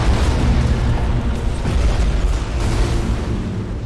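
A spaceship blowing apart in BattleFleet Gothic Armada 2: a loud, sustained rumbling boom with crackling bursts rolling on for several seconds, heavy low-end blast noise that slowly tapers without settling into silence.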